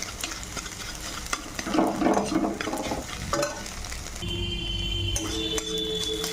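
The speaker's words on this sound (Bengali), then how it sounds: "লাল করে ডিমটা ভেজে নেব।" Egg frying in oil in a pan, a loud close sizzle with bursts of stirring and a few metallic clinks of a utensil against the pan, no talk.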